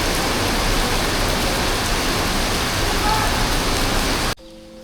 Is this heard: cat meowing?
no